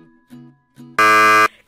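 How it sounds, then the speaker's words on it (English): A quiz show contestant presses the buzzer: one loud, harsh electronic buzz lasting about half a second, preceded by a few short musical tones. "Contestant Vrinda hit the buzzer first."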